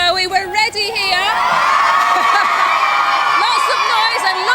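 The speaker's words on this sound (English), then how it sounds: "Lots of noise and lots of cheering" Loud crowd cheering and whooping at an indoor swimming pool competition, a continuous roar of shouting children and adults with high excited calls rising throughout.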